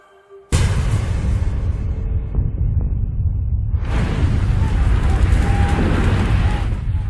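A sudden loud blast cuts in after a moment of quiet, then a sustained roaring rumble that swells again, like a large oil explosion in Texas and its aftermath.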